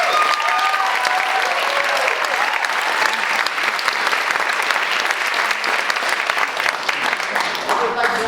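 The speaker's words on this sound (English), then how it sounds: "So how about a round of applause?" A theatre audience at a college festival of new plays applauds the playwrights, with steady, dense clapping from a full room lasting the whole stretch and holding a constant level throughout.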